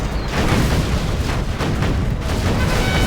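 A Crusader tank in C&C Generals fires amid a continuous, loud wash of booming artillery-style blasts and rumbling battle noise, with no pauses.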